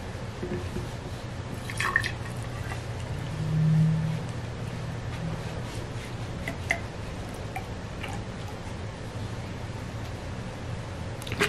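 96% pure alcohol is poured into a measuring vessel toward 200 ml, heard as a faint, quiet trickle with scattered small drips over a low, steady background hum.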